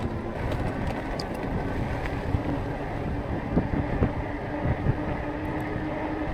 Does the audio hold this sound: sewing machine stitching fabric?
no